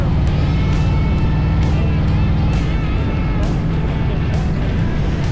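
Motorcycles on a police-escorted group ride pulling away from Daytona Speedway during Bike Week, a loud, continuous engine roar with rising and falling throttle and passing bikes close by, with no talking.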